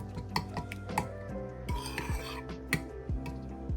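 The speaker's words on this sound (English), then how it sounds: "I'm gonna stir that." Peanut porridge stirred in a pot with a spoon, soft repeated scrapes, knocks and clinks against the pot at an uneven rhythm, quiet and close, with no one speaking.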